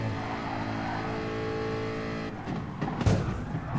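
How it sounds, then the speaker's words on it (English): Race car in Gran Turismo Sport braking hard for a chicane at Laguna Seca, a steady engine drone that breaks up into rougher bursts and a tire-scrub flare near the end. "They're braking for the chicane, and we are nerfed once again into the gravel."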